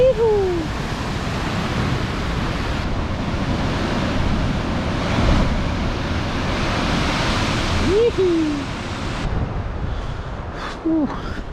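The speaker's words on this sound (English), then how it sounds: "Mean as waves, beautiful west coast weather, unreal." Ocean waves break and roar continuously on New Zealand's west coast, with heavy wind buffeting the microphone and a few brief whistling tones over the surf.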